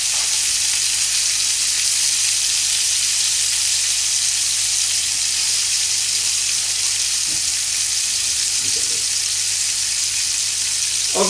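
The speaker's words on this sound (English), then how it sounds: "I'll be cooking my burger medium" A gourmet burger patty sizzles and fries steadily and loudly in a pan, a constant crackling hiss with no pauses and no talking.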